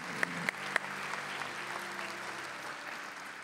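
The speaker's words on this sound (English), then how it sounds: "Let's give our teachers a round of applause." A ceremony audience applauds teachers at an annual awards event, a steady wash of clapping heard from a distance, with a few sharp nearby claps standing out at the start.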